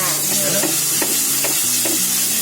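Masala gravy fries in oil in a pan while being stirred, a loud steady sizzle broken by regular scraping strokes of the spoon roughly every half second, with no voices.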